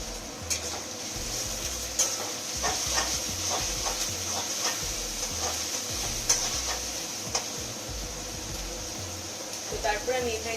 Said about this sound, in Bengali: আমি এখানে দিয়ে দিচ্ছি গাজরগুলো, তাহলে একসঙ্গেই সব মানে একই রকম ভাজা হবে আর কি